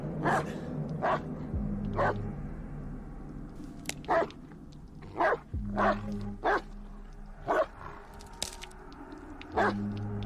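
A dog barks repeatedly in the horror game Blair Witch: about nine sharp, loud, close barks at irregular intervals over a low ambient drone, with no talking.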